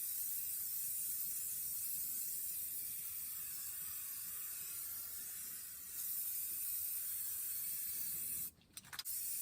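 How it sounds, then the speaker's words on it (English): A steady, bright hiss of an aerosol spray paint can coating old outdoor furniture runs almost continuously, briefly easing once before resuming, then cutting off near the end. "I'm just gonna stand back and give it a good spray."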